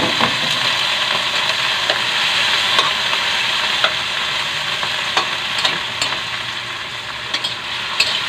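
Ginger fries and is stirred in a pan while cooking sinigang, a steady broadband sizzle running throughout with frequent clicks and scrapes of the utensil against the pan, close and fairly loud, with no voices.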